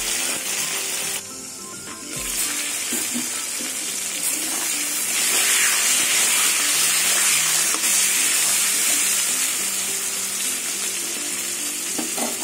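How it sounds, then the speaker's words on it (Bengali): Pointed gourd pieces fry in hot oil under a cover, giving a loud, steady hiss and crackle that swells midway, with a brief clank of the lid or utensil near the start. "পটল ঢেকে ঢেকে লাল লাল করে ভেজে নেব বন্ধুরা।"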